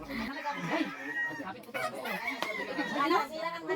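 A black chicken held for slaughter in a rural province clucks and squawks in agitated bursts close by, mixed with people talking over it.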